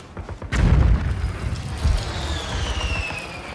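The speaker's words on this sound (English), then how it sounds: "accompanied with the sound of an exploding missile after Macbeth hears the news" A missile explosion sound effect in a Macbeth stage performance: a sudden deep boom erupts and rumbles on, with a second swell, leaving a lingering roar and faint high whine.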